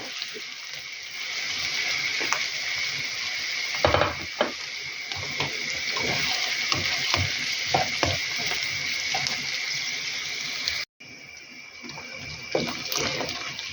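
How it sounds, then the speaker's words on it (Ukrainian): Grated carrot and onion sizzle steadily in a frying pan for stewed cabbage with bell pepper, a continuous close hiss with occasional stirring clatters and a brief break near the end. "І буду додавати сюди моркву, тому що морква нарізана, не на терці, натерта і треба теж трошки просмажилася тут гарненько з цибулею"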